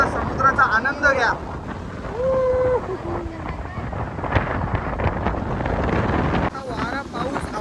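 A strong windstorm with rain on a coast with waves buffets the microphone in loud, rumbling gusts, while people talk and call out over it.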